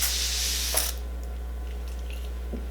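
One quick, airy hiss of a facial mist spray bottle misting, close by, followed by quiet room hum.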